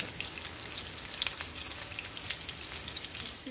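Chicken meatballs fry in hot oil after being flipped, giving a steady close sizzle with dense crackling and scattered sharper pops, at an even level throughout with no voices.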